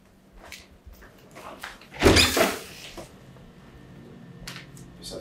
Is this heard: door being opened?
yes